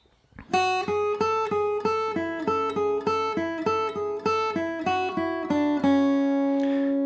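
An acoustic guitar plays a short repeating four-note figure of evenly spaced notes from the fiddle tune Devil's Dream, clear and close, ending on a sustained ringing note.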